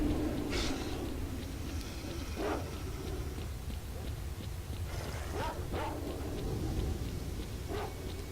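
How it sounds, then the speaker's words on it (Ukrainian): Dogs barking in the video game S.T.A.L.K.E.R., a few scattered yips and barks at moderate distance over a steady ambient background drone, spread across several seconds. "Тут собаки вже."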